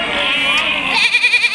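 Someone talks at the Kunta goat market as goats bleat nearby, their wavering calls rising clearly through the final stretch over the market bustle.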